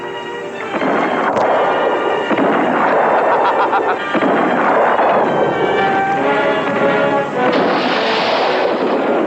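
Heavy booming blasts of a ship's cannons roll one after another, loud and rumbling like repeated cannon fire, with a dense crackling wash between the shots.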